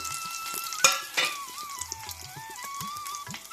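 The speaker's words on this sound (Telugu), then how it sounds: "ఆయిల్ వేడెక్కాక వెల్లుల్లిపాయలు వేసుకుందామని ఫస్ట్." Hot oil crackling and sizzling as garlic fries, with a couple of sharp pops and faint stirring, close up and without talk.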